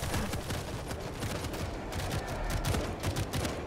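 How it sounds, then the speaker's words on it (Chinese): Sustained machine gun fire in World War Z during a zombie fight at a Tokyo port, rapid and continuous, loud and near, with dense overlapping shots throughout. "不要太过去，我机枪差点打到你们"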